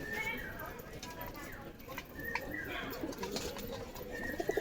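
A pet pigeon at home coos softly in short repeated calls, close by, with a quiet background and a faint voice now and then.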